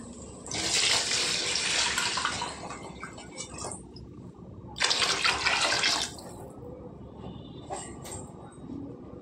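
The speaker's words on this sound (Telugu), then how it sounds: "ఇప్పుడు నీళ్ళు వేసుకుందామండి." Water pours steadily into a cooking pot for pulao in two separate bursts, close and loud, with a quieter pause between them.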